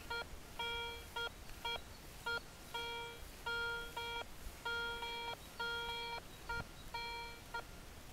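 A Garrett ACE 250 metal detector sweeping a field gives repeated short beeping signal tones in a regular rhythm of bursts, clear and close, with no talk.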